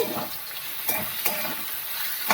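Sliced onions frying in oil for a potato masala curry, with a continuous sizzle and a few sharp stirring scrapes from a spoon against the pan.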